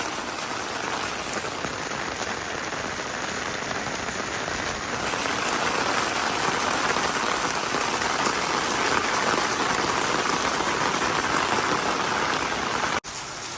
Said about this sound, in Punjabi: ਆਹ ਦੇਖੋ ਪਰਤਾਲਾ ਕਿੰਨਾ ਤੇਜ਼ ਚੱਲ ਰਿਹਾ